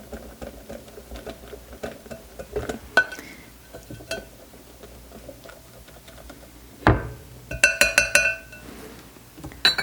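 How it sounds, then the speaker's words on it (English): Melted mini marshmallows stirred in a glass bowl, soft sticky scraping with sparse clinks of a utensil against the glass, then a louder burst of ringing knocks near the end. "Let's give that another good stir here."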